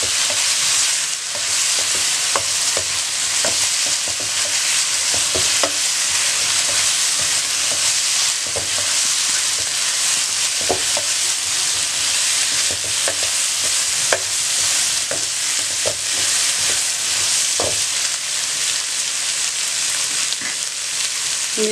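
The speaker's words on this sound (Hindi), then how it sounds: "दोबारा चंद सेकंड के लिए आपने इसको फ्राई करना है।" Spicy chicken with chili fries in a pan with a loud, steady sizzle for the whole stretch, while a utensil stirs and scrapes repeatedly against the pan.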